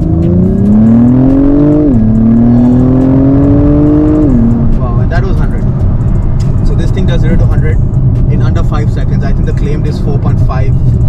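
A 2023 Acura TLX Type S goes to full throttle in sport plus mode, its engine roaring loud and close as the pitch climbs, drops at two upshifts, then holds steady while a person talks.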